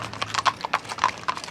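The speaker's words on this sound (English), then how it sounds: "They are actually driving the horses" Horses being driven on a Wyoming ranch clip-clop in a quick, uneven run of sharp hoof strikes, close and clear, with no talk over them.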